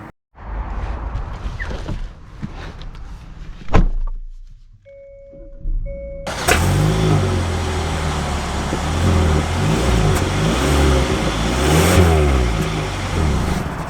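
A 2024 Hyundai Sonata SEL sets off from rest. A few clunks and a brief chime inside the cabin are followed by the engine pulling away and a steady, rising drive hum with road noise that grows louder as the car gets under way.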